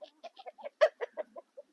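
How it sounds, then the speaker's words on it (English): A drake duck in a small indoor pen gives a series of short, soft whistling peeps and chirps, about ten brief calls in an uneven rhythm, close and quiet with silence between them. "As you can tell, he's not quacking or anything. You can hear his little whistle."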